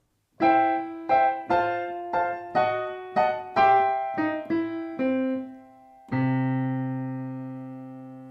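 Piano notes with clear harmonic tone play a short stepping blues ending of about nine struck notes, moving up, then a final sustained chord rings out alone.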